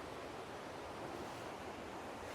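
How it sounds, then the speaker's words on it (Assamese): A river in the Dong Valley near Kaho flows with a faint, steady rushing hiss that holds constant over a couple of seconds, no voices present. "আপোনালোকে নদীখনৰ আৱাজটো নিশ্চয় শুনিছেই চাগে, কি ধুনীয়াকৈ আৱাজ দি আছে নদীখনে"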